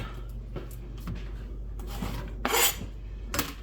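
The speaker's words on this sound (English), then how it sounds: "we're going to slice up one white onion" A knife slices through a white onion on a cutting board in a home kitchen, giving scattered crisp cuts and scraping strokes with one louder rasp near the end, close and dry with no talking.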